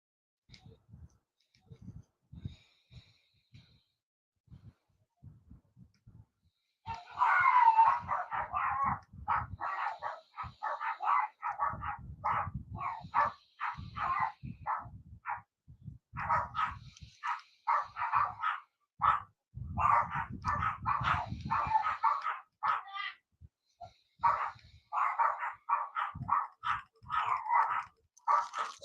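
Several dogs bark in the background in bursts of sharp, repeated barks, quiet at first and then loud and nearly continuous, with a few growls and yips.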